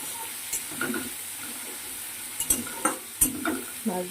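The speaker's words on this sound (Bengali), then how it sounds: "এবার এটাকে মাছ ভাজাটা দেখে নিই কতদূর কী হয়েছে।" Fish frying in oil gives a thin, steady hiss, broken by scattered clicks and clatter from a utensil or lid near the pan.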